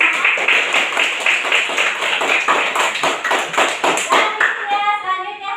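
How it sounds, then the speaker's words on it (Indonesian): Schoolchildren in a primary-school classroom clap together in a quick, loud rhythmic burst of applause lasting several seconds, fading near the end. "Mari kita beri tepuk tangan untuk diri kita masing-masing dan masing-masing kelompok ya."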